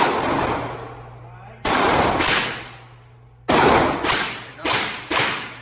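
Several loud, close gunshots ring out at a shooting session, the first alone, then two pairs and a final shot, each with a long, fading echo.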